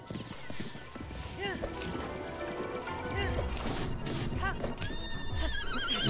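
A horse gallops with rhythmic clip-clop hoofbeats and an occasional whinny while being ridden toward a Guardian in The Legend of Zelda: Breath of the Wild, layered with game music and a player talking over it.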